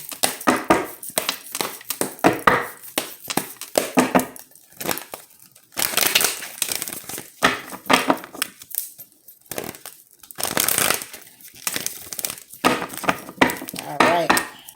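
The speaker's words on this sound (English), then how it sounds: "I do still shuffle on camera too" Tarot cards are shuffled by hand up close, giving irregular bursts of papery riffling and slapping that come and go in quick clusters with short gaps.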